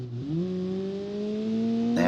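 A Kiev Motors 08 car engine in the BeamNG driving game, floored and revving hard at full throttle, its tone climbing quickly and then holding a loud, steady high drone.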